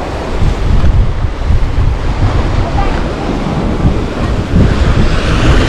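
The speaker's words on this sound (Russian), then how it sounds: "Такая небольшая волна." Small sea waves wash onto the shore at Flamingo beach in Lazarevskoye, a steady loud surf with heavy wind rumble against the microphone, continuous with no voices.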